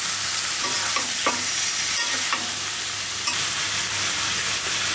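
Garlic and ginger paste sizzles steadily as it fries in oil while being stirred, with a constant hiss and occasional scrapes of a spoon against the pan, no talking.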